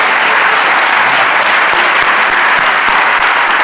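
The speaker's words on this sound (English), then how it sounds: "give a massive round of applause" Audience applause for Rizzle Kicks and Darcus Beese at a WIRED Next Generation event, a dense, steady wash of clapping from a large crowd, loud and continuous with no talking.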